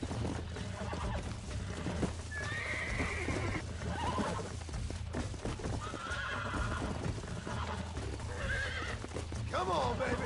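Horse in the video game Red Dead Redemption neighing and whinnying several times over steady clip-clopping hooves, with someone talking throughout and game ambience underneath.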